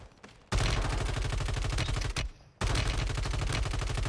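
Rapid automatic gunfire from RAM-7 and HRM-9 weapons in a first-person shooter video game, loud sustained bursts with a brief pause midway, no talking.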